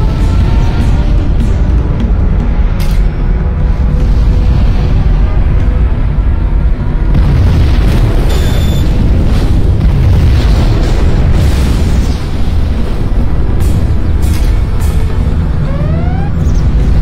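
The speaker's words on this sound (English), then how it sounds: "We have launched our nuclear missile." Nuclear missile detonation in the strategy video game Command & Conquer Generals Zero Hour, a very loud, sustained roaring boom that fills the whole stretch with dense rumbling and crackling, plus a few small tonal game effects.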